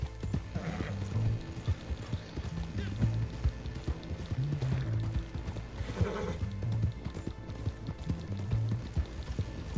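Horse hooves clip-clop steadily at a run with whinnies and neighs in the Red Dead Online game, loud and continuous against a dusty outdoor game soundscape with no talk over it.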